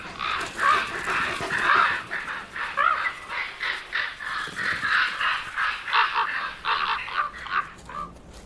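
Wild ravens in the Balkans call over and over in hoarse, croaking caws, a dense overlapping chorus of several birds, loud and close, with no talk.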